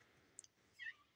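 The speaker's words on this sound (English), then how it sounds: "Our cat is, meowing outside the door." A cat meows outside a closed door, one faint, brief, muffled call near the end after a couple of soft ticks in a quiet room.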